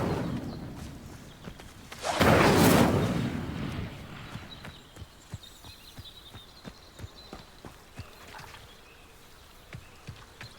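Incendio fire spell cast in the video game Hogwarts Legacy: a sudden loud whooshing burst of flame flares up for about a second, then fades into a faint crackle, followed by a steady run of sharp clopping footsteps.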